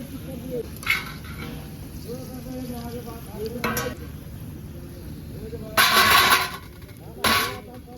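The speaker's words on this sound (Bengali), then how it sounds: "এইভাবে পকোড়াগুলো লাল লাল করে ভেজে দেবো" Pakoras frying in hot oil in a kadai, a soft steady sizzle underneath with occasional louder bursts of bubbling and stirring scrapes, close by, with a voice speaking over it.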